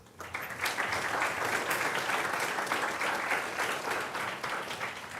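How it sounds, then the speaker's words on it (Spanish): A room full of people gives sustained, even applause for a graphic design talk, rising quickly after a brief quiet start and holding steady and moderately loud for the rest of the stretch. "por favor, démosle la bienvenida con un gran aplauso"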